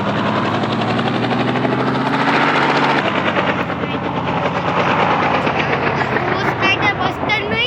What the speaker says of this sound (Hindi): हम लोग हेलीकॉप्टर मंगा रहे हैं और ये हमारे सामने एक हेलीकॉप्टर आ चुका है